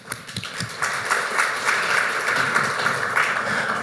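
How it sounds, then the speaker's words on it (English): An audience at a conference talk claps in a dense, sustained patter that starts scattered and fills in to steady applause, heard from within the room with no voices on top. "let's give Anna and Stas a round of applause"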